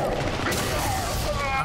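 Dense gunfire in Call of Duty Black Ops 6 Zombies forms a continuous layered rumble of rapid shots and booms, loud throughout, with voices faintly mixed into the game noise.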